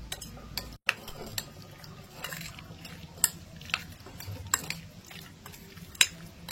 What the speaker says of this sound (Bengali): এবার এটাকে ভালো করে মাখাতে হবে।